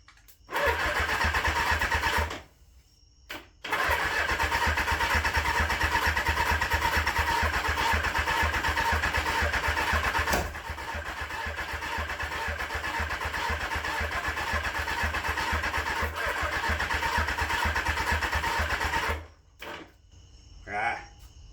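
An abandoned Suzuki GSX750 motorcycle, dosed with starting fluid, cranks in long loud bursts separated by short pauses. The rough, buzzing starter-and-engine noise is close, and a few faint sounds follow at the end.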